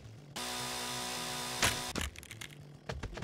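A chainsaw cuts into a tree in the VR game Chop And Drop, a loud, steady engine buzz lasting just over a second, followed by a sharp crack and a few irregular knocks and thuds.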